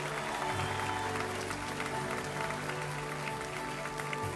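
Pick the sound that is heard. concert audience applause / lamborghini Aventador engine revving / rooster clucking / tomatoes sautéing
concert audience applause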